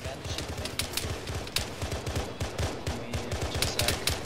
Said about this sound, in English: There's the machine gunner firing.